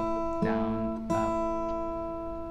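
An acoustic guitar gives two soft down-up strums on the open first string while learning a song, fairly quiet, with the notes ringing out afterward.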